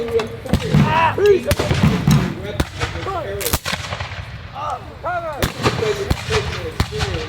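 Musket volleys ring out at an outdoor re-enactment of the Battle of Great Bridge. Sharp, loud cracks repeat irregularly, some echoing, over a murmuring crowd and shouted drill commands.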